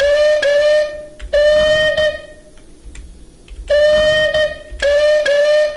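The Andreas steam locomotive in the Roblox game MSR Golden Years sounds its whistle in two loud, steady blasts separated by a short silence, each with a clear, sustained tone.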